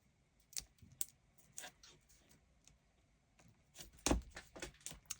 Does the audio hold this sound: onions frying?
no